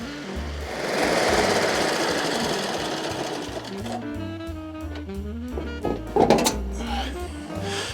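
Lawn mower with a groomer attachment grooming a short-cut lawn, a loud, close, steady mechanical engine drone with a few heavier clunks near the end.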